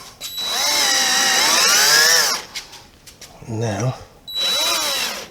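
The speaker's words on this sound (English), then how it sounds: "I'm only going part way in with the first screw so that I've got a bit of movement to allow me to make sure that I line up the second screw" A power drill drives screws into deluxe trim on a VW T1, whining loudly in two long runs close by. A short spoken word and a brief rattle fall between the runs.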